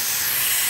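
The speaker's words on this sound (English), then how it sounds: "Now I have a handheld steamer and I can get up into corners and things." Steam hisses steadily and loudly from a PurSteam handheld steam cleaner, a continuous close, bright spray with no breaks and no talk.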